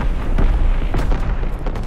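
The USS Texas battleship firing its primary battery in Call of Duty WWII: heavy, loud booming blasts that follow one another closely over a dense, rumbling low roar, with no voices.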